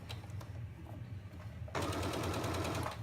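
A sewing machine stitches the last side of a drawstring bag, starting after a quiet stretch with a steady, close, rapid mechanical whirr and needle clatter that runs to the end.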